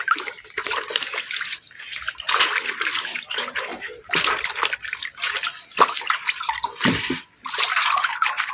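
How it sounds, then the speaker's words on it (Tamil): Palmyra sprouts are rinsed and swished by hand in water, with bursts of splashing and trickling that come and go in an uneven rhythm, close by. "அதில் உள்ள அழுக்கானது தண்ணீரில் அலசும்போது சுத்தமாகிவிடும்."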